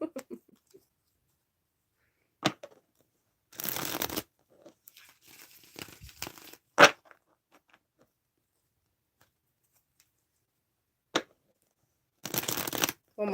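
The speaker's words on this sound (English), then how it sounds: "I learned how to shuffle for tarot." Tarot cards are shuffled by hand in quick riffling bursts, several short crisp rushes separated by quiet gaps, close and clear, with a few faint soft handling noises between them.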